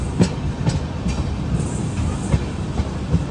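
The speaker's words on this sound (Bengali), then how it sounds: "তো ট্রেন এখন আমাদের কিষানগঞ্জ স্টেশনে প্রবেশ করছে।" A Humsafar Express passenger train rolls slowly into Kishanganj station, heard from inside a coach. Wheels clack over rail joints in spaced, regular beats over a steady low rumble.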